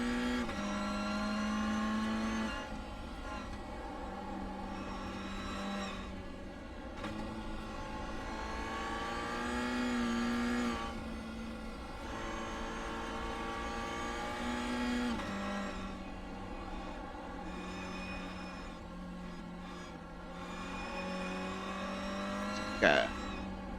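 Race car engines droning on a circuit during a club race, a continuous loud engine tone whose pitch rises and falls with the throttle, under talk.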